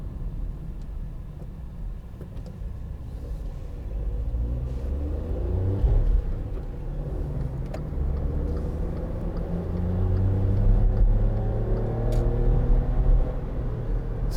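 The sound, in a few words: 2012 Volkswagen up! three-cylinder engine driving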